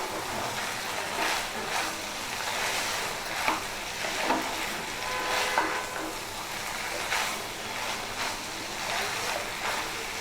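Chickpeas being stirred in a pan with cumin powder for Bengali chola bhuna, a continuous soft sizzle with repeated scraping strokes of a spoon, close and fairly even in level.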